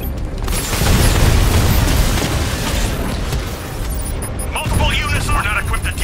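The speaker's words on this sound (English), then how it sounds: "Batman, I primed my tank to explode." A tank explodes in the Batman Arkham Knight video game, giving a loud, sustained, roaring blast and rumble that fills several seconds before easing into crackling debris, with voices partly heard over it.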